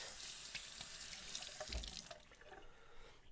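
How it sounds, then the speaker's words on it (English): Warm tap water runs steadily over a clean white cloth at a kitchen sink while bread dough rests nearby, a close, continuous splashing hiss with no voices. "I'm going to put it underneath warm water"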